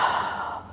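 A single close, soft breath exhaled through the mouth during a Pilates mat exercise, a brief breathy rush that fades out.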